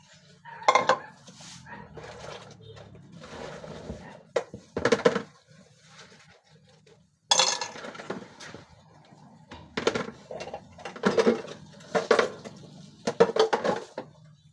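Dishes being washed: bursts of clattering plates and clinking cutlery with splashing water, separated by quiet pauses.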